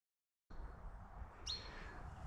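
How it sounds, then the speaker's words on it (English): A brown treecreeper gives a short, sharp high-pitched call partway through, standing out against a steady bed of open woodland background noise in a travelling stock reserve near Barraba, NSW. "Got the brown tree creeper, pink, pink, pink over here, that call."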